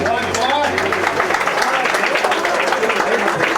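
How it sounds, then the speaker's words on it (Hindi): A crowd applauds to welcome guests at a Hindi film launch ceremony, a dense, steady clatter of clapping heard close and loud for the whole stretch. "एक तालियों के साथ स्वागत किया जाएगा"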